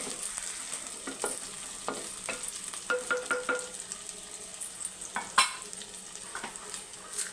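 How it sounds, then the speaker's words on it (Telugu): Tomatoes sauté in oil with a soft sizzle, while the pan takes a series of stirring scrapes and clinks, a sharper knock near the end. "టమాటా కూడా యాడ్ చేసుకుందాం ఇవి మూడు మనం నూనెలో బాగా మగ్గబెట్టుకుందాం"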